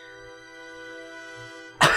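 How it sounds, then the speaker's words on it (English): One sharp, loud cough bursts out at the end, close to a microphone, after steady sustained tones from video game music. "Stop coughing!"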